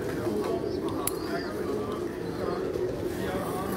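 Pigeons coo softly at a pigeon-flying setup, a steady low murmur of birds under continuous nearby conversation.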